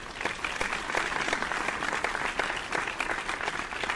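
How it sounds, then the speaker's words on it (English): Steady applause from a crowd in a video game, dense clapping that holds at an even level throughout without breaks. "A round of applause for my fellow graduates."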